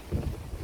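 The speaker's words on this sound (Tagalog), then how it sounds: "Lakas ng hangin" Strong wind gusting across the open hilltop of Digos Hill beside a pineapple plantation, a steady low rumbling buffet on the microphone that swells and eases with no voices.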